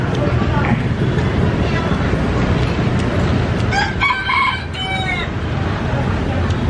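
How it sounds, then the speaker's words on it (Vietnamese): A rooster crows once, clear but a bit distant, at a busy roadside broken-rice eatery in Saigon. Steady street and crowd noise runs underneath, and people talk nearby. "Ở đây có gà, gà kêu luôn, gà gáy."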